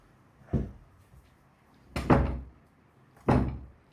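A door that is locked from outside is rattled and pushed in three heavy, thudding bursts, close and loud with pauses between them.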